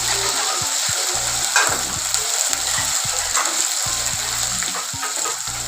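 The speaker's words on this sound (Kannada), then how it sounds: "ಇದನ್ನು ಚೆನ್ನಾಗಿ ಫ್ರೈ ಮಾಡ್ಕೊಬೇಕು." Ginger garlic paste frying in a pan after onions have browned, for a curry leaves chicken dish: a steady close sizzle with occasional stirring scrapes, loud and continuous with no talk.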